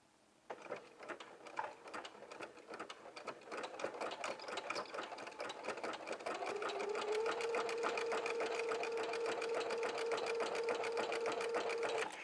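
A sewing machine stitches fabric along a seam with back stitching, starting as quick uneven bursts of needle clatter, then running into a steady, fast continuous whir with a sustained hum, fairly quiet and close.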